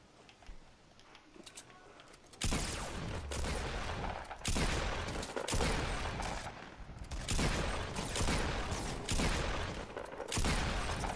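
Double pump shotgun shots in a Fortnite battle royale match, a series of loud, sharp blasts in quick succession, close up over constant game noise.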